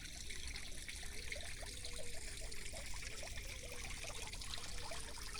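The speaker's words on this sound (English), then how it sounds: "I love the sound of the running water." Water trickles and runs continuously in a garden on an early summer morning, a soft, steady babbling and dribbling that stays gentle and even, heard alone with no voices.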